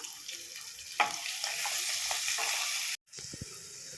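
Green chilies dropped into hot frying oil for boti curry, a steady close hiss of sizzling with a few stirring scrapes, continuous until a brief cut near the end, then resuming.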